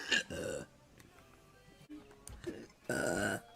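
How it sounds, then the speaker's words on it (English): A person lets out two loud, close burps, one at the start and a longer one near the end, with quieter throaty sounds between them. "There's your burp."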